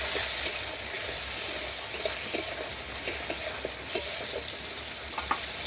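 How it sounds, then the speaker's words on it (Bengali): Oil sizzles steadily as tomato fries in a pan, with occasional sharp clicks and scrapes of stirring, continuous and close, no talking. "দিয়ে আজকে ভেজে নেবো টমেটোটা"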